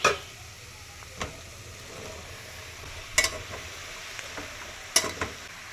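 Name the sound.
ridge gourd added to frying pan with fenugreek leaves, coriander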